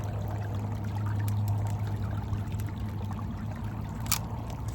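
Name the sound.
creek water flowing while gold panning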